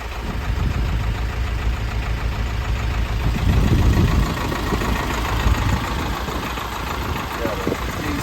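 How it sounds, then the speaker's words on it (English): Chevrolet W4500 cabover truck with a van body idling steadily at close range, a continuous low engine rumble with some turbo noise, the idle briefly swelling a little louder midway before settling. "the turbo makes a bit of noise on this"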